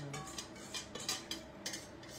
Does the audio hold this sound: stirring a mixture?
yes